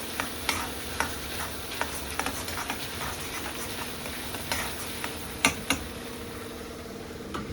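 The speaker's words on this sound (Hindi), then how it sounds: "अच्छे से इसकी करेंगे भुनाई।" Bitter gourd bhaji stir-fries in a pan, a soft continuous sizzle under repeated light taps and scrapes of a spatula, close and with no talk.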